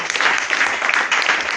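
A church congregation claps together in steady, fast rhythmic applause that sounds close and full, with a brief murmur of voices underneath.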